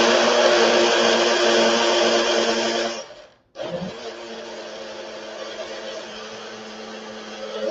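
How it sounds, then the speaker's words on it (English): A small personal blender bought at Walmart whirring through a Juice Plus banana shake, a loud steady motor whine that cuts out briefly, then restarts and runs on evenly. "I did get my little personal blender from Walmart"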